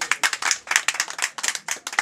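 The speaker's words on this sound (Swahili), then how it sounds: "tupige makofi" Audience members at a charity gift presentation for a family clap in a steady, crisp series of close hand claps, with a few people joining in and little other sound.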